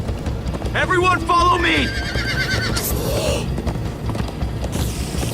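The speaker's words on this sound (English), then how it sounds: "Come on, horses!" Horses galloping in Minecraft: Story Mode, with steady hoofbeats and a sharp whinny near the start. A voice shouts over the hooves, and scattered game effects sound behind.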